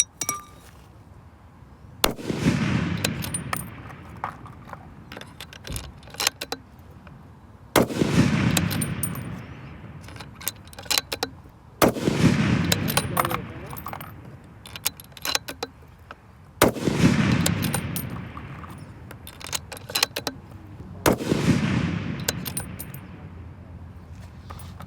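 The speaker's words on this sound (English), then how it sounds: "We're going to shoot the 180s and the 184s together this time." Rifle shots from Berger 180gr and 184gr loads ring out one at a time at a long-range course, about five loud sharp cracks spaced a few seconds apart, each followed by a rolling echo tail.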